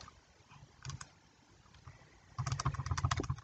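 Buttons on a graphing calculator being pressed to enter an equation, faint clicks in a brief burst, then a faster run of close taps at the end.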